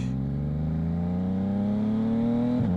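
A Yamaha MT-09 motorcycle engine revs steadily upward in one long, loud, smooth pull, then briefly dips as the quick shifter clicks into the next gear.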